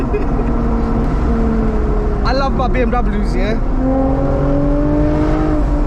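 The 2008 Lexus IS250 V6 growls steadily, then revs sharply in a short burst of climbing and falling pitch before settling back to a smooth drone, with someone talking over it.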